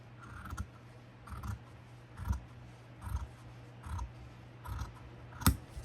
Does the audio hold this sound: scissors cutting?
yes